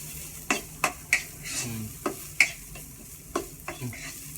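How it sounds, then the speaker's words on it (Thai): Garlic fries in a pan under a soft, steady sizzle while a spatula scrapes and knocks against the pan about a dozen times in uneven strokes. "เจียวกระเทียมให้มันหอม"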